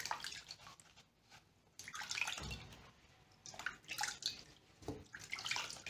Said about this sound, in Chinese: 我们把梨也清洗一下